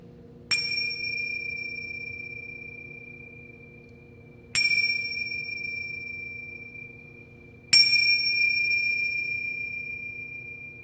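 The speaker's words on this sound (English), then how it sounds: "I'm going to play these 3 times. It's a very different sounding bell" A meditation bell rings three times at slow, even intervals, each clear metallic strike ringing out and fading gradually over a low steady hum in a quiet sound-healing session.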